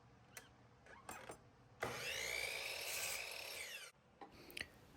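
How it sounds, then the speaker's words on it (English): Scrap oak being cut, a few light wooden taps and scrapes, then one continuous rasping saw stroke lasting about two seconds, followed by more brief knocks, close up and quiet. "to mark and cut some scrap oak that I have milled to fit the piston block holes."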